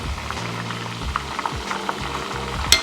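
Oil crackles and sizzles steadily in a pan holding a roasted whole chicken as it gets flipped, with soft scraping and handling noises and a sharp clink near the end.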